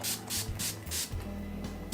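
Makeup setting spray mists out in several quick pumps, each a short bright hiss close to the microphone, over a steady low background hum.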